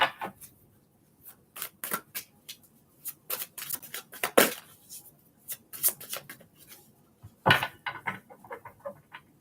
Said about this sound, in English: Give it a couple good shuffles.